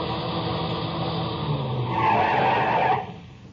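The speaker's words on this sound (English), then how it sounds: "I heard the whine of a car coming over the rise in the rough road" A car skids on a rough road as a radio-drama effect, a loud, close engine roar with tire scraping that swells into a squeal and then cuts off, no voices over it.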